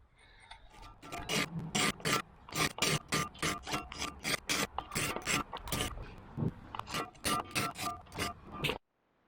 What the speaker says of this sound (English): So I'm gonna go ahead and sharpen up the other blade.